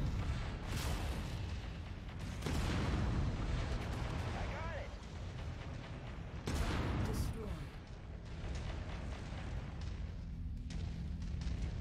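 Weapon fire from battling mechs in MechWarrior 5, with a Cataphract in an assassination mission: repeated heavy booms and bursts of gunfire over a constant rumbling battle din, with someone talking over it in places.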